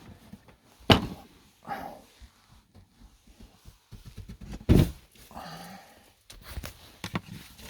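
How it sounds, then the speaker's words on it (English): A wooden attic trap door shuts with two heavy thuds a few seconds apart, amid shuffling, creaking and handling noises. "If I put this trap door down, I might get it back up again"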